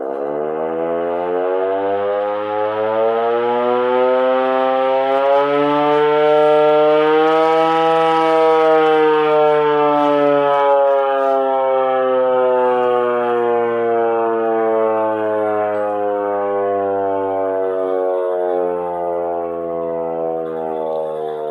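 A loud World War II air-raid siren wails for about twenty seconds, its droning pitch swelling and holding in a long, steady howl.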